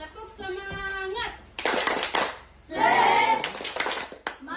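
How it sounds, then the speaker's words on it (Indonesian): Children in a classroom perform the rhythmic 'tepuk semangat' clap chant, sung phrases followed by bursts of group clapping and shouting, loud and close. "Tepuk semangat."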